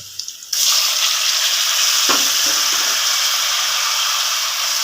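Tomatoes dropped into hot oil in a kadai for chicken karahi erupt into a loud, sudden, sustained sizzle after a brief quiet start, with a faint stir or scrape partway through.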